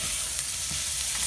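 Sausages fry in a pan with garlic and onion, giving a steady, close sizzle with soft crackle throughout and no voices.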